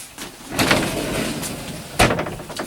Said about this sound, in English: Notice the etched glass in your closet doors.